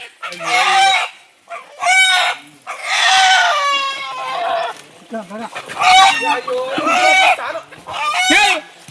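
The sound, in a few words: chickens clucking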